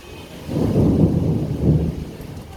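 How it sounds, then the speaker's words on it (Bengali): Thunder during a rainstorm, a deep rolling rumble that swells twice over steady rainfall, fairly loud and without talk. "আকাশ ডাকছে।"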